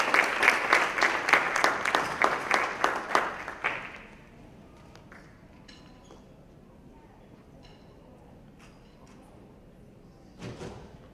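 An audience bursts into dense, loud applause for an award recipient at a health town hall, the clapping holding for a few seconds before fading into a quiet room with a faint voice and a brief rustle near the end.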